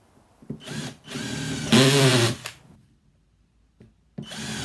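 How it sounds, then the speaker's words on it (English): A power drill drives through foam into the wood of an old coffee table being converted into a tufted bench, in two close bursts, one short and one longer with rising strain, then a pause before it starts again. "And then just start drilling right in the center of the hole."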